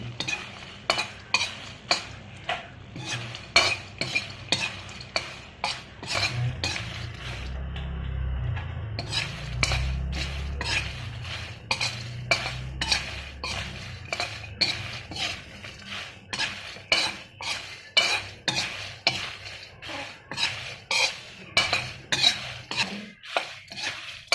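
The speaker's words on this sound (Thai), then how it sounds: "ทอดแป๊บเดียวนะครับทอดแป๊บเดียวเดี๋ยวทอดนาน มันจะไหม้นะครับ" Cicadas deep-frying in oil with a dense run of rapid metal clinks and scrapes as they are stirred, the rhythm pausing briefly midway over a soft bubbling sizzle.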